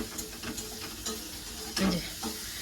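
An egg omelette fries in a pan in a home kitchen, giving a soft, steady sizzle with a few light scraping or stirring sounds over a quiet background.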